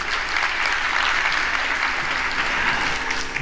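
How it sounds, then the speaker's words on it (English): A crowd claps steadily in a sustained burst of applause at a music school concert, with no voices over it. "Let's give him a round of applause, please."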